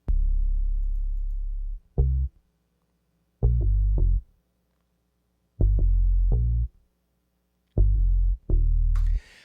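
A single musical track pitched down an octave with the high end rolled off, heard as four deep, muffled low-register bursts of notes separated by silences, with a brief bright click at the very end.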